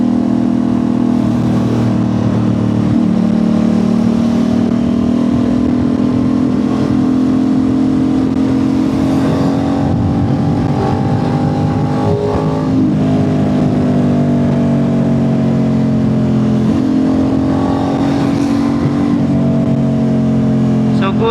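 An Aprilia RS660 sport motorcycle engine holds a steady high-rpm drone during a top speed run, with rising and dipping pitch as it revs, loud and close, under someone talking throughout.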